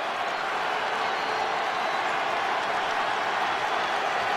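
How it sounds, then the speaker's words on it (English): An NBA basketball arena crowd on its feet during the final seconds of a close game after missed free throws produces a steady, loud, continuous roar. "Crowd on its feet."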